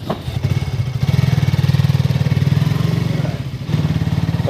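Motorcycle engine running steadily nearby, a loud, even mid-pitched throb with rapid regular pulses that holds for several seconds without a break.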